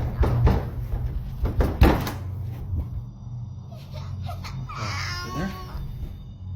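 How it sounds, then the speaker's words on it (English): Loud banging on a basement door at home, several heavy thuds packed into the first two seconds, followed by quieter scraping and a voice. "a loud banging noise on the basement door is suddenly heard"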